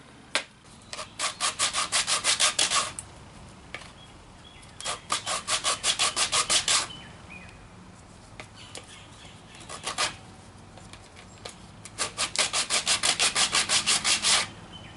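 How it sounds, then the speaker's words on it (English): Hand sanding on a laminated wooden bowl in quick rhythmic bursts of rasping strokes, four runs separated by short pauses, close and fairly loud. "So let me get to sanding."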